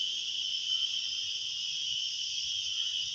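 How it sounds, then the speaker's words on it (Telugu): Insects chirp from thorn bushes outdoors in a steady, dense, continuous high buzzing drone that holds evenly throughout, with faint low rustling beneath and no voices. "ఇక్కడ కంప చెట్లలో ఉండే పురుగులు అరుస్తున్నాయి."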